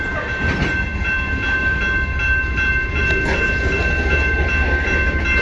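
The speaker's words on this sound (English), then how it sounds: "See a northbound train." A CN freight train approaches near South Rockwood with a loud, steady rumble and grinding rail noise that stays constant throughout, no voices over it.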